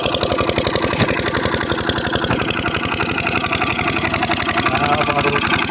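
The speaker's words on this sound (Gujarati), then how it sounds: "આ અમારું પાણીનું મશીન છે" A farm irrigation water pump engine runs steadily, used to water a wheat field near a dam, giving a loud, close, even thumping idle that continues throughout with no voices over it.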